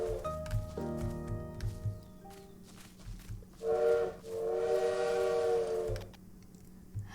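In the video game Little Witch in the Woods, a bird imitates a train whistle with a long, sustained, fairly loud whistling tone, preceded by softer game music and background sounds.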